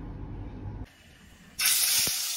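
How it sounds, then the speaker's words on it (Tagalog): A sudden loud sizzling hiss kicks in after quieter background noise as tuna is dropped into hot oil, continuing steadily close by. "I-fry ko muna yung tuna."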